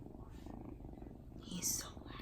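A kitten purrs loudly up close, a steady low rumbling throb lasting throughout, with a brief higher sound near the end.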